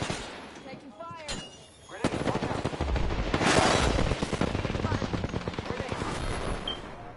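Video game gunfire crackles in rapid, sustained bursts after a few isolated shots, building to a dense, close volley that continues steadily, with a voice briefly heard early on.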